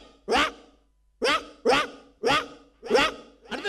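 A man on a comedy stage imitates a poor household's dog, giving six loud, separate barking yelps in a steady rhythm, close to the microphone.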